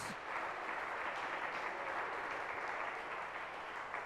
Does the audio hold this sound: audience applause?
yes